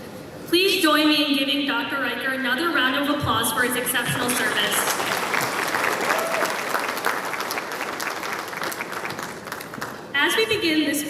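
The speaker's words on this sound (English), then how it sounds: "another round of applause for his exceptional service" Applause from the audience at an IMA annual gala in a banquet hall. A voice speaks briefly at the start and again near the end, with sustained, dense clapping between.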